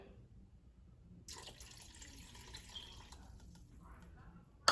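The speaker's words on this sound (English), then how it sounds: "I'm going to go ahead and add my second cup of water" Water pours steadily into a pot after a brief quiet start, a soft continuous splashing stream, ending with a sharp knock.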